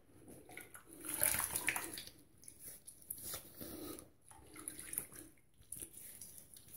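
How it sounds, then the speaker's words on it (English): A tap runs as a face is rinsed after a straight-razor shave, with bursts of splashing and flowing water broken by short pauses, fairly quiet and with no talking. "Let's go ahead and get that washed off and see how we did."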